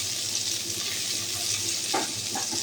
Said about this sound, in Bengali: প্রথমে ঘি দিয়ে দিলাম, কাজু কিশমিশগুলো দিয়ে দিলাম, একটু নাড়াচাড়া করে নেবো